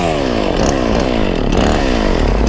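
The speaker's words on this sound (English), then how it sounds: "I need a chainsaw man." A chainsaw runs loud and close at steady high revs for a couple of seconds, its pitch wavering slightly as it cuts while repairing damage at a camp.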